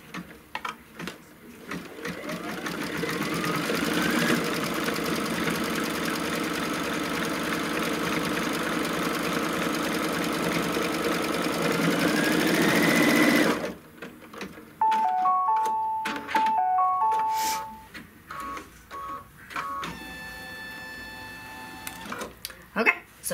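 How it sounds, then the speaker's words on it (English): Embroidery sewing machine stitching a tack-down line on a paisley belt bag: a loud, steady, rapid mechanical chatter runs continuously for about thirteen seconds, then stops and gives way to intermittent clicks, beeps and short machine movements. "what it's going to stitch next is the tack down on the other side"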